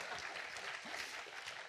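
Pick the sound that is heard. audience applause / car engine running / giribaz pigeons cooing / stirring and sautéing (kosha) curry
audience applause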